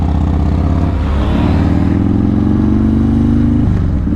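A rider's new Yamaha MT-09 motorcycle engine runs loud and close, rising in pitch in a sustained rev with a steady throaty drone, then dropping back near the end.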